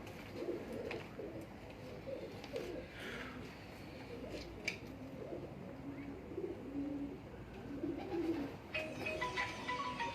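Soft, repeated cooing of pigeons throughout, low and throaty, with faint rustling and a few distant clicks in the background.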